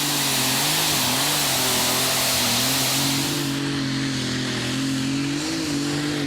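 A turbocharged IH 466 engine on a 2.5-ton pulling tractor roars loudly and steadily at a tractor pulling event, holding high revs with a slight waver in pitch throughout.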